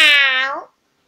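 Female kitten giving a single loud, close, drawn-out meow lasting well over half a second, which stops abruptly and is followed by silence.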